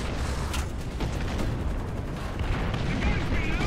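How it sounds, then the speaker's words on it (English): Artillery fire during a War Thunder tank battle with an M4A1 Sherman booms and rumbles densely throughout, dull thuds layered over constant low game noise, with no clear pause between impacts. "Stop dropping bloody artillery, I can't see shit!"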